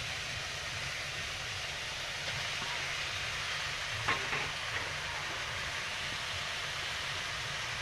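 Boiled potato is stirred and fried with tomato in a pan, giving a steady close hiss with faint scraping and a brief knock midway, no voices.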